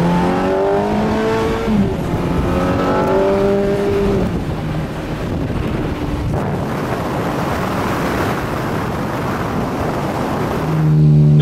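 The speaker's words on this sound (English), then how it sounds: "the sound is unbelievable. It's unique, flat plane V8. Nothing sounds like that" Ferrari F430 with a flat-plane V8 revs hard, rising harmonics climbing twice before the engine settles into a loud, rough roar with wind buffeting, then a fresh rev swells at the end.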